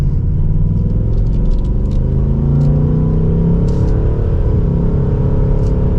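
A 2024 Ford Mustang GT Premium accelerating in drive, shifting on its own: a steady, loud low engine rumble and drone that holds for several seconds, with no talking.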